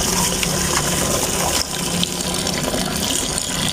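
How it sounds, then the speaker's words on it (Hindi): Tap water gushes loudly into a container holding eggshells, a dense, continuous rushing pour close up with a slight change in tone midway. "ये आप इसके अंदर थोड़ा सा पानी डालें"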